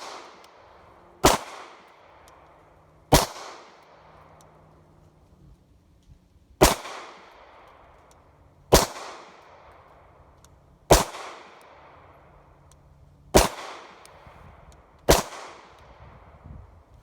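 Seven sharp, loud Hi-Point C9 9mm pistol shots fired one at a time outdoors, spaced about two seconds apart, each with a short echoing tail and quiet between.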